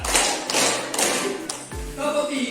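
A class of schoolchildren claps together in a classroom, making a few sharp, loud unison claps with brief gaps between them and some voices in the background.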